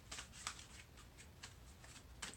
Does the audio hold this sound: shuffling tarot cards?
yes